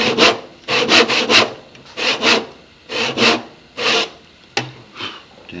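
A hand saw cuts into wood down to a marked line for a housing joint, giving steady rasping strokes in short bursts of two or three with brief pauses between them, close and clear with no talking.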